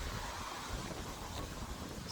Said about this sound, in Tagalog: Tingnan nyo naman sobrang hangin, oh.